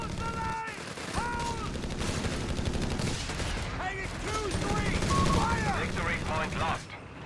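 Machine gun suppressing fire in the strategy game Company of Heroes 3 rattles in steady rapid bursts beneath a commentator's continuous talk, with other battle noise mixed in.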